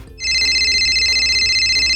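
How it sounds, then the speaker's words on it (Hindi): A mobile phone ringtone starts abruptly after a brief quiet moment and rings loudly and steadily in a close, sustained electronic trill, with no voices. "सर आपका बज रहा है। क्या? आपका फोन।"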